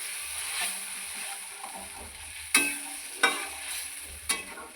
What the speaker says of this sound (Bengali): দিয়ে অল্প অল্প করে নাড়তে থাকবো।